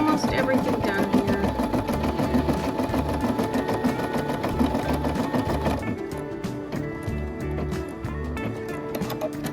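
An embroidery machine stitching a paw emblem, a fast steady mechanical chatter of needle strokes, close and continuous, with a change in tone partway through as the stitching pattern shifts.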